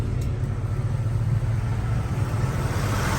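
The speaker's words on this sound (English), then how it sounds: "take a listen to the engine." A 1984 Chevrolet K5 Blazer engine idles steadily up close, a deep continuous rumble without pause or change in pitch.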